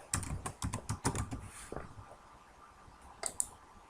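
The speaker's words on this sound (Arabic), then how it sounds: "كليكي على كونترول اس" Computer keys clatter on a keyboard: a quick run of close, crisp presses, a short pause, then two more sharp clicks.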